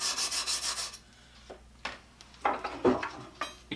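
A brass wire brush scrubs a carbide-tipped circular saw blade in quick, rhythmic rubbing strokes, a burst of rapid scraping first, then scattered separate swipes and light metallic clinks, close by with no talk.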